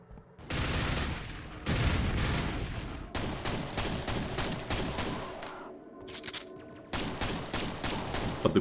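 Rapid nail gun fire in the shooter Quake, a dense continuous rattling stream of shots that pauses briefly and resumes, loud and close.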